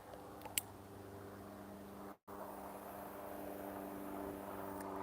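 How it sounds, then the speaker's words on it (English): An airplane drones overhead in a steady, sustained hum that holds through the whole stretch, broken by one brief dropout partway in. "That plane's back again."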